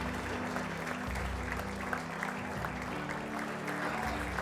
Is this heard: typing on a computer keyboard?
no